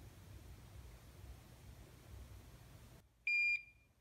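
A Hakko FX-951 soldering station gives a single short, clear electronic beep that rings out after a stretch of faint background hiss.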